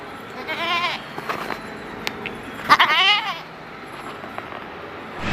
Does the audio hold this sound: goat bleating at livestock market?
yes